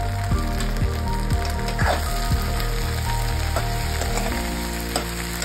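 Okra, onions, green chillies and curry leaves frying in a pan, a steady close sizzle with faint crackles and occasional stirring taps beneath low background music.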